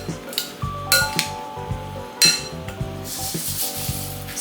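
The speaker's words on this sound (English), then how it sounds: "In a large bowl, add the sprouts. Then mix in the olive oil." Brussels sprouts are tossed with olive oil in a large bowl, giving a close run of light clinks and clatters from the bowl and utensil, with a few brighter knocks and a soft rustle between.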